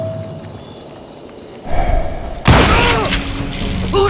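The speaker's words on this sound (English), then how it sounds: "Who's shooting?" Gunshots in the Western video game Call of Juarez: Gunslinger boom sharply after a quiet rumble, a loud burst of several cracks with ringing echoes and scattered impacts, with a voice heard briefly.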